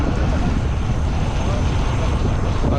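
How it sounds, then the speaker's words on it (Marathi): A fishing boat heads out to sea for deep-sea fishing in strong wind, its engine a steady low rumble mixed with heavy wind buffeting and water noise throughout, loud and continuous. "आता आपली बोट चालू झाले आणि चालले मासेमारी करायला"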